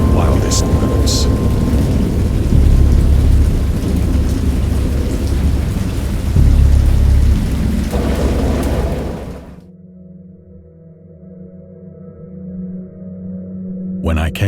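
Video game thunderstorm: heavy rain roars with deep rumbling thunder for several seconds, then abruptly drops to a low hum before a faint rumble returns.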